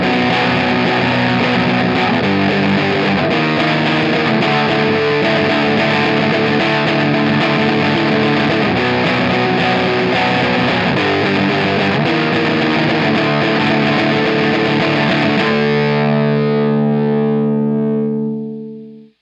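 An electric guitar plays through a Big Muff fuzz distortion pedal, producing a thick, saturated, sustained wall of distorted chords that rings out and fades at the end, with no voices.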